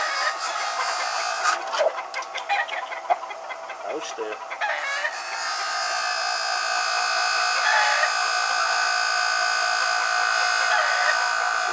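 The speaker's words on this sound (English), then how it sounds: "the yard chickens are cackling." Yard chickens and hens cackle loudly and continuously close by, with clucks and crowing-like calls from gamefowl, and a few brief spoken words in the first seconds.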